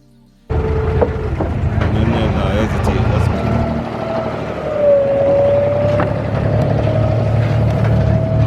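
Boat engine drones steadily through a cheap ferry crossing over the water in Dubai, loud and continuous with passing whines and clatter, while people talk over it.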